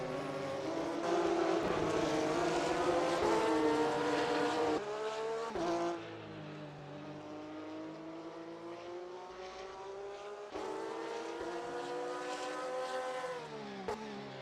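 Porsche race cars scream past on the Indianapolis race track, their high engine notes rising and falling with gear shifts and Doppler sweeps, loud and sustained through the stretch with no voices.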